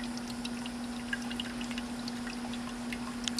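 Coconut water pours out of a hole in a coconut in a steady, thin trickle, with faint drips and a low continuous hum underneath, close and quiet throughout.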